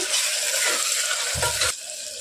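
Chopped tomatoes softening in a hot pan for mutton curry, a steady close sizzle with a brief stirring scrape, no talking.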